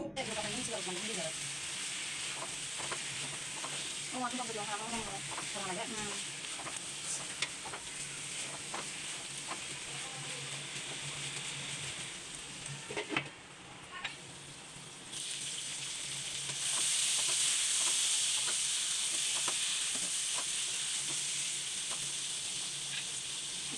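Eggs and potatoes cook in spices in a covered pot, giving a steady, faint hiss and sizzle that runs throughout and swells slightly toward the end.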